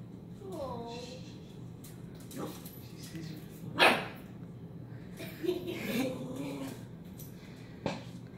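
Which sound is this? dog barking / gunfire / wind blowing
dog barking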